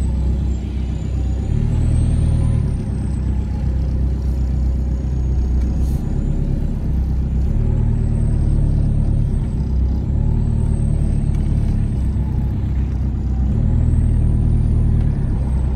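Volkswagen Golf GTI Mk2 being driven, its engine a steady low rumble throughout from inside the cabin, with the tone rising and falling gently as it accelerates, no voices over it.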